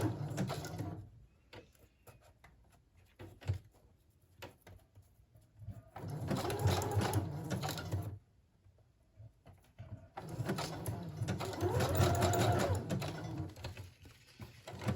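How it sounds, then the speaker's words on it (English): Domestic sewing machine stitching around the edges of a journal cover made from a gift bag, running in two sustained bursts of steady mechanical whirring separated by quieter pauses and small handling sounds. "now I'm going to go ahead and just sew all the way around the edges"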